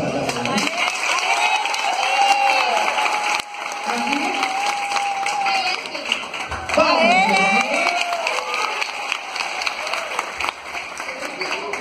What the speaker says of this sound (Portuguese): Palmas pra Gabriele.